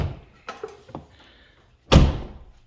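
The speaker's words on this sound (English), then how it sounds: "we find ourselves just having to slam the doors to shut them" A door on a 2022 Jeep Sahara Unlimited that needs extra force to shut, with a few light handling clunks and then one loud, close slam that fades quickly.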